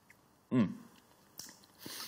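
A brief crunchy bite and chewing of lemon and garlic salad dressing seasoned with sea salt and black pepper, a single loud burst followed by soft mouth sounds and quiet rustles.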